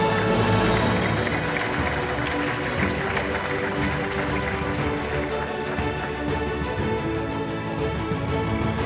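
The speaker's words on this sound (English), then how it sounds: "a big round of applause on the signings" An audience at the Global Digital Power Summit 2021 applauds a partnership signing. The dense, continuous clapping stays strong and even for several seconds.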